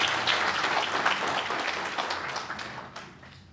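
Crowd applause at a business chamber's annual event honouring first response teams, steady dense clapping with no talk that gradually thins and fades out toward the end.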